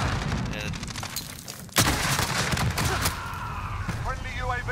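Cruise missile explosions in Call of Duty: Modern Warfare: rolling blasts and gunfire crackle continuously, with one sharp loud burst partway through, as a voice talks over the din.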